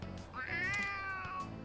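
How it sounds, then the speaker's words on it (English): Stray cat in the Persona 3 Reload video game, a single clear drawn-out meow rising and falling, alone over soft background music. "Oh, a kitty cat!"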